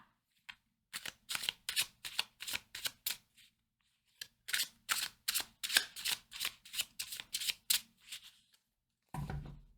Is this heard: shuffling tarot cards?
yes